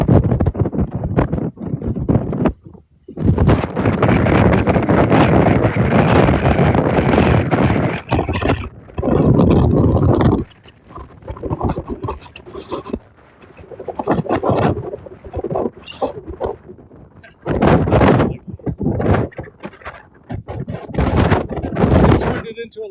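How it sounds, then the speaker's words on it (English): Strong wind buffets the microphone on a beach at Gabarus, Cape Breton, in loud rumbling roars and gusts that drop away briefly before surging back, heavy and close throughout. "Yeah, that wind is pretty strong."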